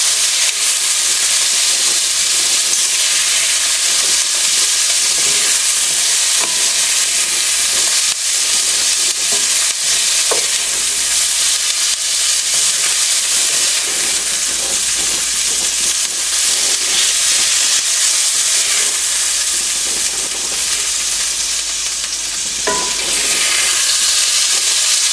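Food sizzles and fries steadily in a skillet with a dense, continuous hiss, loud and close, and a few faint clinks.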